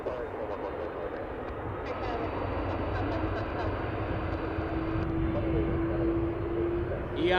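A Republic Embraer 175 jet bound for Chicago O'Hare runs at Toronto Pearson, a steady moderate engine rumble with a rising whine near the end while a voice keeps talking over it.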